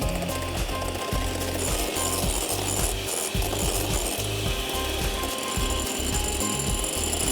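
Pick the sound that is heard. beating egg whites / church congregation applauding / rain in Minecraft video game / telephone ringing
beating egg whites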